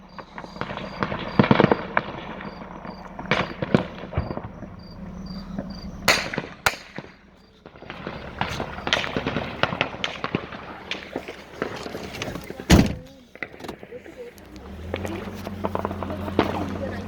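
Machine gun fire at a border clash between Tajik and Kyrgyz sides: scattered sharp bursts and single loud cracks echo at a distance, with excited voices shouting and talking throughout and insects chirping in the background.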